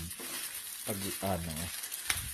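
Leftover roasted chicken fries in a pan for chicken pastil, giving a steady, moderate sizzle. Someone talks over it.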